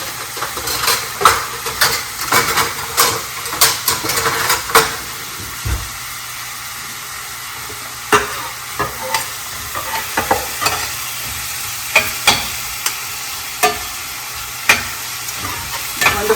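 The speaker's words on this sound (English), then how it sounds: "Then you'll put all those onions in here. Okay. All right, we better get ready for a sizzle." Onions sizzle in a pan while a spoon stirs them for chana masala in a home kitchen, a steady frying hiss broken by irregular scraping, clinking strokes, close and clear.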